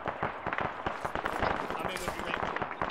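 Rapid gunshots ring out in the ARMA military game as a fast, uneven string of sharp cracks. They overlap one another and sound at moderate distance, mixed with other battle noise.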